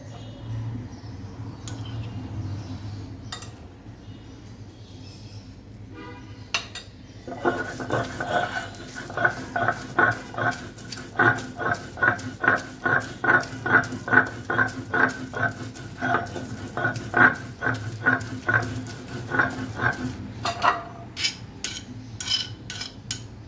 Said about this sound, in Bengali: তবে আমি এটা শিলপাটায় বেটে দিব, আর তার সাথে অন্যান্য যে উপকরণগুলো আছে সেগুলোও বেটে নিব।